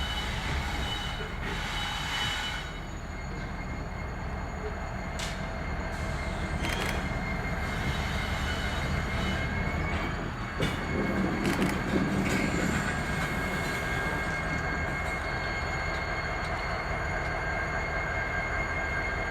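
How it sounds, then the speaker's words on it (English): A freight train locomotive rumbles steadily past on a wye track, with continuous low engine drone, metallic wheel noise and occasional high squeals from the rails. "we had the power for another mainline freight train making a turnaround move at the Y"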